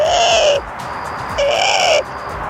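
A person imitates a Eurasian collared dove's flight call with two drawn-out, wavering nasal cries separated by a short pause, loud and close with no other talk.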